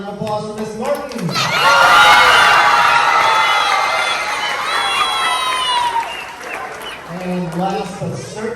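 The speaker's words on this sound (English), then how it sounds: "And a round of applause for Miss Martin." A crowd of children and adults at a school event claps and cheers for a teacher, the noise surging loudly after a short spoken line and carrying on for several seconds before fading back to a voice.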